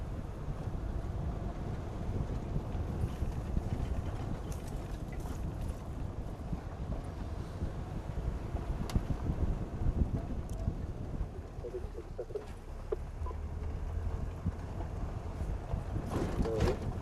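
Safari vehicle engine idling or running steadily on a game drive, a continuous low rumble mixed with wind buffeting the microphone throughout.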